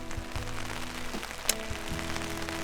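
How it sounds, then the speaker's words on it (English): Rain patters steadily on a makeshift tent on an elk hunting trip, a soft continuous hiss with one sharper drop hit partway through, heard close and alone. "we have some rain moving in"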